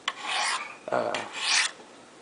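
Knife blade drawn along Spyderco Sharpmaker ceramic stones, two long close raspy strokes with a brief scrape between them.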